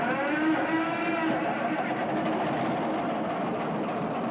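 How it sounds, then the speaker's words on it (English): A 1960 Kenworth truck engine in Farming Simulator 2013 runs with a steady, low mechanical rumble and a constant droning tone, fairly loud and alone for the whole stretch. "it's a functional truck, and I love, love the startup sound."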